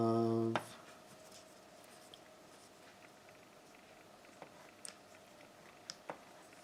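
Pen writing on a paper craft page for a Valentine woven heart pocket and mini book, heard as a quiet run of soft scratching strokes with a few small taps, close and alone after a brief voice at the start.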